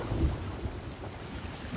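A thunderstorm at sea in the video game Sea of Thieves, with a steady roar of heavy rain and low rumbling thunder filling the scene at a constant level, with no voices.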